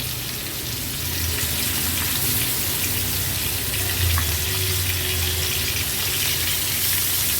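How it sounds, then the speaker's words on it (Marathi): Silver croaker fish, Agri-Koli style, dropped one by one into hot oil in a pan over a high flame, giving a steady, loud, close sizzling hiss that runs unbroken throughout. "एक एक करून ही दातरी ढोमी मी तेलावर सोडते"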